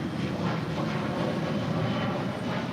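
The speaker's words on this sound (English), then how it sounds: "About to cross over 25 right, coming in from JFK, and that is American Airlines Flight 331 and an A321." An American Airlines A321 crossing runway 25 right at LAX, heard as a steady, loud, broadband roar of jet engines with no break over a few seconds.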